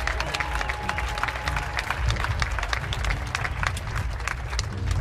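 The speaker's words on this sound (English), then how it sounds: "please give yourselves a round of applause for being part of this Burning Man tradition" Audience at a Burning Man orchestral concert on the playa breaks into sustained applause and cheering, a dense crowd of clapping heard fairly close, steady throughout.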